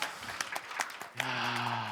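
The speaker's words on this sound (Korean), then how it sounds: "박수 한번 보내주시죠." An audience at a Korean talk-show awards event gives a short burst of scattered clapping, which fades after about a second into a steady humming tone.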